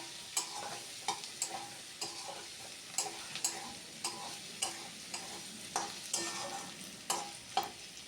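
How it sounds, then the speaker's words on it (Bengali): Potatoes and onions stir-fried in a pan for a lunch curry, a quiet sizzle under repeated sharp scraping strokes of a spatula against the pan, steady and rhythmic throughout. "এভাবেই নেড়ে চেড়ে আলুর সঙ্গে পেঁয়াজ একটু ভালো মতো কষিয়ে নেব।"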